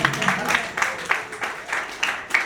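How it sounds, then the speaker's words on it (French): Guests clap in rhythmic bursts at a Haitian wedding service held in a church in Brazil, the claps fairly close and steady, with voices mixed in underneath. "Applaudissez, applaudissez."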